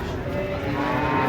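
A large cow unloaded from a truck lets out a low, drawn-out moo at close range, with engine rumble and outdoor noise behind it.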